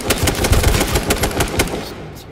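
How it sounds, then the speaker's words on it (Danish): Rapid bursts of automatic gunfire from a first-person shooter video game, loud and close, a dense rattling volley lasting about two seconds before cutting off, with no talking. "Skud forfra."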